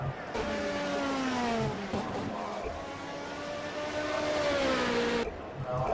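Ferrari race cars, among them a Ferrari 155, scream past at Sebring in a 12-hour racing game, high engine tones rising and falling in a continuous procession, with faint commentary underneath.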